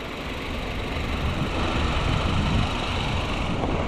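Steady idle of a 2015 Honda Civic LX 1.8-liter VTEC engine heard from the open engine bay, an even low rumble with a broad hiss and no talk.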